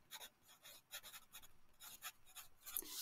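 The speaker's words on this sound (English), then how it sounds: "I'm gonna go ahead and write it up here." Marker squeaking and scratching as numbers are written on a whiteboard during a math lesson, short rhythmic strokes in quick clusters, faint and close, with no talk.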